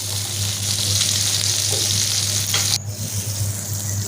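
Raw minced meat kebabs frying in a pan, a loud steady sizzle of hot oil with a constant hum beneath and a brief stir or turn near the end.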